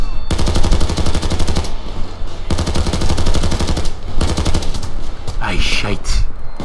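Rapid automatic gunfire in the video game PayDay 2, loud and close, with long continuous bursts separated by short pauses and a few scattered single shots near the end.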